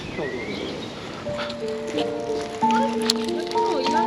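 Birds sing clear, sustained whistling notes in a park in Vienna, layered and overlapping over a steady outdoor background hum.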